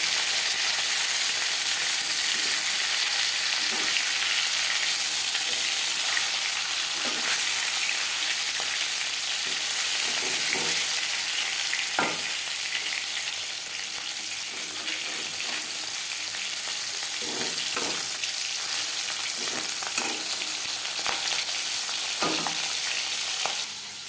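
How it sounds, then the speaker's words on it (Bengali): Katla fish pieces fry in hot oil with a continuous, even sizzle and scattered soft pops, heard close and alone for a long stretch. "মাছ একটা সাইড ভাজা হয়ে গেলে অপর সাইডটা উল্টে দেবো"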